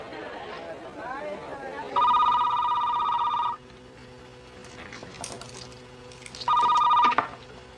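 A telephone bell rings in two loud bursts, each lasting over a second, separated by a pause filled with murmured chatter and faint background activity.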